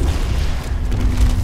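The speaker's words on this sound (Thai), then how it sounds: "ยิงรัวจริงๆเลย" Rapid gunfire and explosions in the Avatar Star video game: a dense, loud, continuous rumble of booming blasts with no clear gaps.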